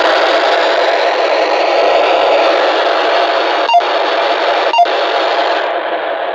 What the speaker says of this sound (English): And then this is the emergency alarm.